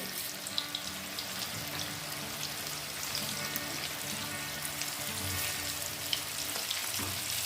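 Potatoes with biryani masala frying in a pan give a steady, moderately quiet sizzle and bubbling hiss that holds evenly throughout, with faint scattered stirring clicks and no voices.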